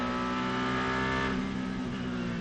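A WEC race car at the 6 Hours of Fuji drones loudly at high revs with a steady engine note that drops slightly as the driver lifts off the throttle just before an impact.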